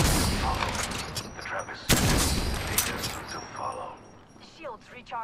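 Gunfire in the battle royale game Apex Legends: loud bursts of shots and a sharp crack amid chaotic combat noise, with in-game voice lines heard over the action.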